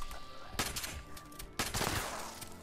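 An explosive pump action shotgun fires in the video game Fallout 76, two heavy, booming blasts about a second apart, each followed by a rumbling tail over ongoing game ambience.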